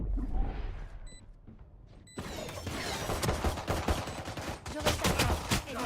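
Dense, continuous automatic gunfire in the tactical shooter Valorant, a rapid loud burst of shots that starts abruptly after a quieter stretch and keeps rattling to the end.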